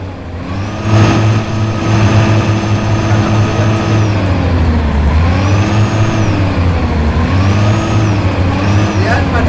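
A car engine in a driving game revs as a Logitech G29 gas pedal is pressed, the loud tone swelling and easing in repeated waves while someone talks over it.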